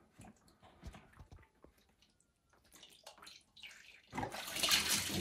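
Tap water runs through a newly fitted household water filter, starting as faint trickles and scattered drips, then swelling into a loud, steady close-up rush near the end.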